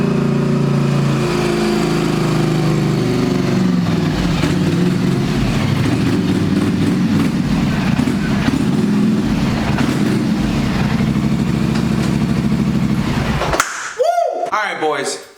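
A Polaris Sportsman 850 ATV engine runs loud and close with a steady rumbling idle for most of the time, then cuts off abruptly near the end, leaving a short stretch of quieter handling noise.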